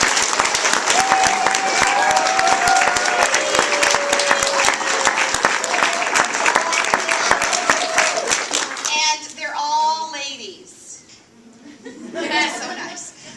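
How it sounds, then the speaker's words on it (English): A theater audience gives a huge round of applause for the backstage crew who run the lights, sound and curtain, dense clapping filling the room for about nine seconds before fading into a speaker's voice. "So what I would like to do right now is give them a huge round of applause and thanks."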